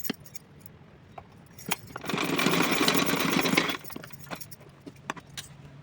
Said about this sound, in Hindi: तो चलिए मैं सिल के दिखा रही हूँ आपको।